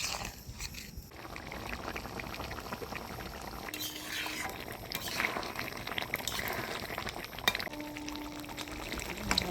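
Leftover hot water is poured into a pot of chicken curry simmering on the boil, a steady splashing pour and bubbling close by that runs for several seconds with no speech.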